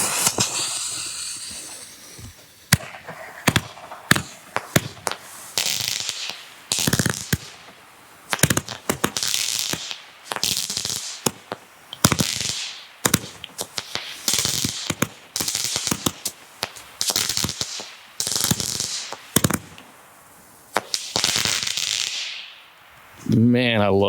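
Nitro brand Happy Cake firework shooting off outdoors over a field, a long run of sharp, loud bursts and crackling hisses fired in rapid irregular succession, with brief lulls between volleys.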